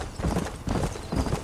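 Horse hooves in Red Dead Redemption beating in a quick galloping rhythm, three or four close, heavy clip-clop bursts with no talking.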